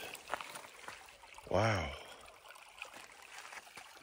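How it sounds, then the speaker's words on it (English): Water trickles through a small stream near an old desert windmill, a faint continuous burble under a man's sudden loud exclaim and breathing, with footsteps and brushing around. "And we got water running through here."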